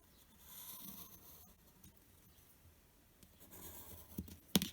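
Pencil drawing lines along a ruler on paper, soft scratchy strokes in a few separate passes, faint and close, with a sharper tap as the pencil lifts off at the end.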